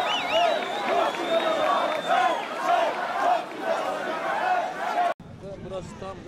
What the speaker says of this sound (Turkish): Sayın Cumhurbaşkanımızı ve Cumhurbaşkanı Yardımcımızı alkışlarımızla uğurluyoruz.